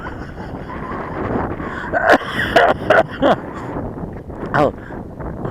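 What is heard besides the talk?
strong wind blowing in Richmond Park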